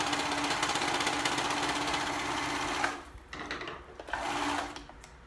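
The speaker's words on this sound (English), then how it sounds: "I'm going to go ahead and serge along the tops." A serger stitches along the shoulder seams of a girl's school dress with a fast, loud, continuous mechanical buzz. Partway through it slows into a few shorter bursts.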